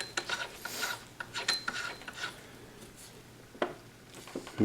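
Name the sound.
screwing flash can onto Kriss Vector muzzle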